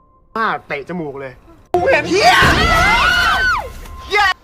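A person at a party lets out a loud, sustained scream lasting about two and a half seconds, with voices shouting around it. Someone talks briefly just before the scream, and a short voice follows it.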